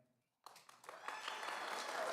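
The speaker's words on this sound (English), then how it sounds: "please withhold your applause" A debate audience at a 2024 Democratic primary breaks into applause after a moment of silence, the clapping swelling quickly into a dense, steady wash that stays loud to the end.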